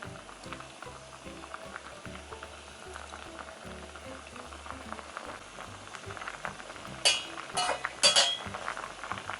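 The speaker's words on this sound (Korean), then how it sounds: "청국장을 넣고 한번 부르르 끓어오르면" Cheonggukjang stew of fermented soybean with anchovy and kimchi boils in a pot with a steady, close bubbling simmer, joined by a few sharp clinks near the end.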